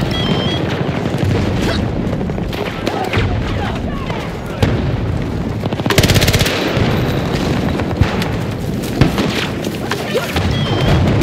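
Rapid automatic AC9 fire in the video game Battlefield 2042 rattles on loud and close amid booms and crashes of battle, with in-game voice callouts over it.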